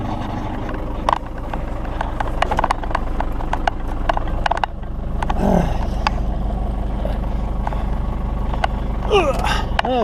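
A rough Ford Transit van engine idles loudly and unevenly with clattering knocks and rattles, while someone talks over the noise.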